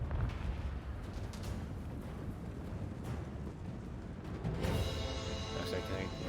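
A fireball slams into the Hell Cannon during a Dark Elves versus Chaos battle in Total War Warhammer 2, a rumbling impact buried in dense, steady battle din with crackling bursts toward the end.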